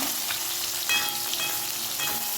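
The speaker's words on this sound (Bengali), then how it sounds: "দেখো, মাছগুলো ভাজা বসিয়ে দিয়েছি" Fish fry in a pan with a steady, even sizzle close by, with a faint pop or two and no talking.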